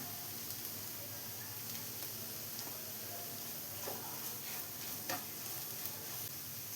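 Spice powders and salt sautéed in a pan for an egg roast give a low, steady sizzle with a few faint scraping stirs, quiet and close, with no voices.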